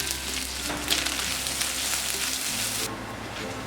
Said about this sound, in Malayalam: ഈ തേങ്ങ കട്ട് ചെയ്തത് ഇതിലേക്കിട്ട് ഫ്രൈ ചെയ്തെടുക്കാം